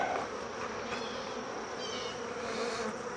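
Honeybees buzz steadily around an open beehive in mid-August, a dense continuous drone with no voices over it, close and even throughout.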